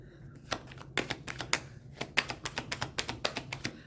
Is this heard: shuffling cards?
yes